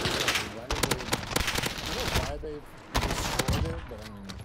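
Automatic gunfire in the video game Call of Duty Rebirth: rapid bursts of loud, close shots in quick rhythmic volleys, broken by a brief pause, with a voice talking over the action.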